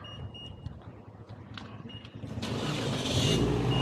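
A 2017 Toyota Vios TRD with a drift exhaust starts remotely, a cranking catch followed by the engine settling into a rising, steady idle rumble nearby.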